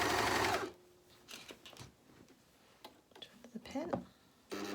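A JUKI MCS-1500N coverstitch machine stitches a hem with a hemming attachment in a short fast burst at the start, then falls quiet while a person talks over light handling sounds.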